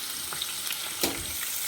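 Sliced onions hit hot oil where cardamom pods have already popped, for ghee rice, giving a steady close sizzle with a brief louder crackle midway.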